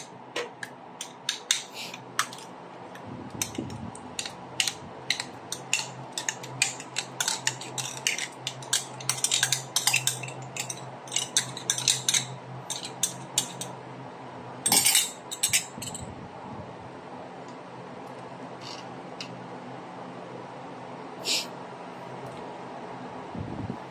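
A spoon clinks and scrapes against a bowl while mixing mango tapioca, with many quick, irregular taps and clinks over a steady low background hum, close and fairly clear, no voices.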